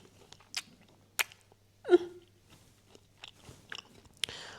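Crispy fried squash blossoms stuffed with ricotta are bitten into, giving a few sharp, close crunches with soft chewing between them in an otherwise quiet setting.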